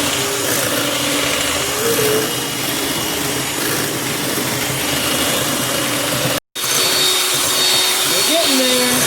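An electric mixer whips chocolate milk with a steady, loud whirring drone that cuts out briefly near the end and then resumes.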